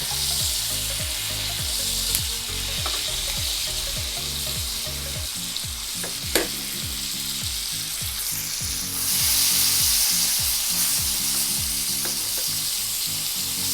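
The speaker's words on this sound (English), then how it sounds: "Now that perfectly gets that fat on that side rendered, and we can continue to baste our meat." Steak with its fat cap rendering sizzles loudly and continuously in a pan while being basted, with a few faint clinks and no talking.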